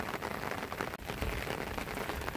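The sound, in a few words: light drizzle rain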